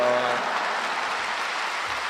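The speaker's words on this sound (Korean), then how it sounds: "할렐루야로 하나님께 영광 돌리고 박수로 맞이하시겠습니다" Applause in a congregation at an early-morning church service at Yoido Full Gospel Church, welcoming the preacher; a steady wash of many hands clapping at once, moderately loud and unbroken for about two seconds, with no voices over it.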